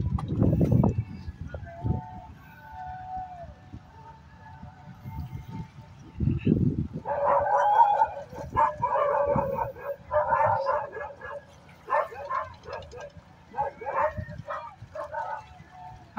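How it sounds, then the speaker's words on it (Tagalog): Several dogs bark and yelp in a fight near cottages, with sharp bursts and growling coming in clusters at moderate distance, with quiet gaps between outbursts. "Nag-aaway pa yung mga aso dito mga cottage."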